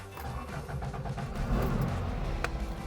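A 1965 Porsche 356C cranks and its engine catches, with a low mechanical rumble building up close by, followed by a faint jingle of keys.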